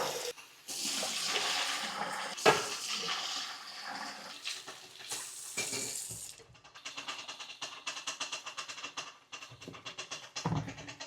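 Milk boiling in a pot on a home stove gives a rushing, hissing surge, then settles into rapid pulsing bubbling, close and moderately loud, with no talk.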